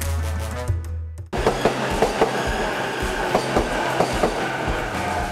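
A Japanese commuter train in Tokyo runs with a loud, continuous rumble, a low steady hum giving way to rhythmic wheel clatter and rattling carriage noise that fills the space.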